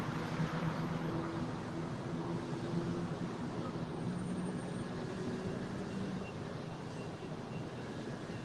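Airliner taking off from runway 25 right at LAX, a steady broadband engine roar with wind-like rush and no clear talk, holding at an even level that eases slightly toward the end.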